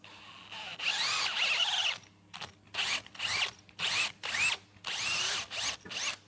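A power drill drives a tap cutting threads into mild steel, whining in about seven close, loud bursts with short pauses between them, and no talking.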